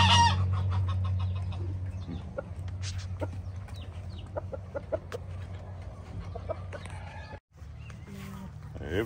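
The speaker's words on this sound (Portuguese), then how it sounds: "Outro galo." Rooster on a rural farm clucking repeatedly in short bursts, close by, over a steady low outdoor hum, with other farmyard bird calls scattered through.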